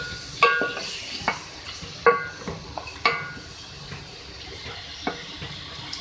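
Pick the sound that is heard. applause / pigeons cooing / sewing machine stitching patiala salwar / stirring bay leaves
stirring bay leaves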